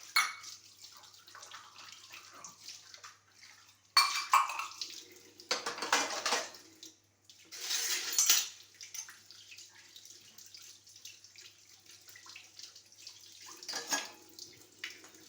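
Dishes and pots being washed under a running tap in a home kitchen, with bursts of gushing water and clattering vessels separated by quieter gaps, close and moderately loud.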